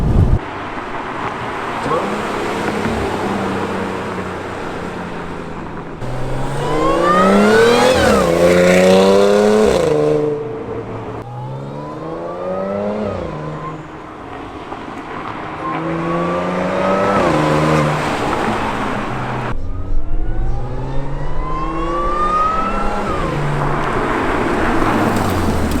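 An Audi S4 fitted with a RocEuro intake revs repeatedly through rising, sweeping acceleration runs from inside the car, with several pulls separated by brief lifts of the throttle.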